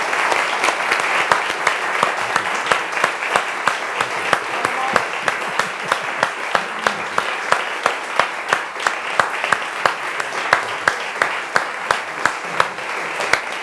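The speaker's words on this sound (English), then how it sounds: "we can sign off from the live stream with a round of applause for Jake and for the wonderful audience." A concert audience gives a long round of applause, dense clapping with sharp rhythmic accents as some in the crowd clap in unison, sustained and loud throughout.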